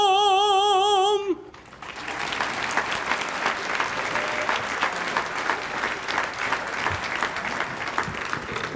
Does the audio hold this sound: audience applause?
yes